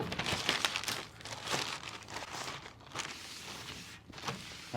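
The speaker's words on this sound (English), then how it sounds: "It's got a little seal that you just pull right off." Plastic seal peeled and crinkled off the taped lid of a Nomad portable grill's packaging, close and fairly loud, with rustling and crackling bursts across the whole stretch and no talk.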